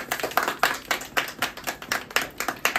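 A small group claps steadily for a few seconds, the hand claps close and fairly sharp with an uneven, rhythmic patter and no talking over them.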